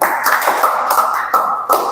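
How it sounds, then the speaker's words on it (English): A class claps hands together in an online English lesson, several short crisp bursts of applause about every half second, close and loud with no talking. "Put your hands together for him."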